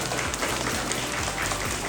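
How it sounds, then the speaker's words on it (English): Applause at a kindergarten awards assembly, a steady, dense patter of clapping from parents and children gathered in a school hall. "Let's give our kindergartners a round of applause."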